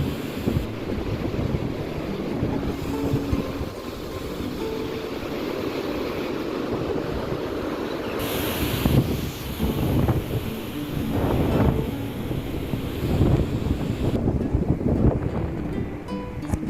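Sea waves and gusting wind on the beach at Mandarmani in the morning, a continuous loud roar of surf with heavy wind buffeting the microphone and surges of breaking water.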